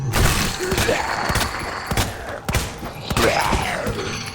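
Pistol shots ring out in Resident Evil 2 as a string of loud, sharp cracks spaced roughly a second apart, mixed with thuds and impact sounds, with no voices.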